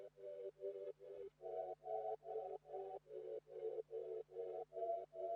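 A reversed, sped-up pad sample in a beat pulses in rapid, even rhythmic swells about every half second, each ducking to near silence before swelling back. Under it runs a faint steady low tone.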